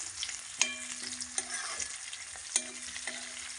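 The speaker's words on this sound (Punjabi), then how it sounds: "ਚੰਗੀ ਤਰ੍ਹਾਂ ਮਿਕਸ ਕਰ ਲੈਣੇ ਆ 2 ਮਿੰਟ ਲਈ ਪਕਾ ਲੈਣੇ ਆ" Browned onions and potatoes fry in a pan for chana rice, sizzling under repeated scraping strokes of a spoon, with sharp metallic clinks at several points and no talking.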